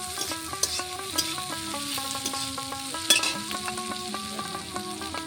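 Pointed gourd pieces with green chillies being stirred in a sizzling pan, a steady frying hiss broken by repeated scraping strokes of a spatula across the metal, close and moderately loud, with no talking.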